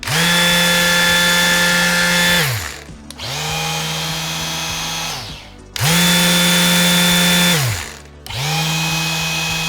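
Old Ryobi R18PS-0 cordless palm sander running in bursts, four steady high-pitched whirring runs of about two seconds each separated by short stops as it spins down and restarts, close and loud with no talking.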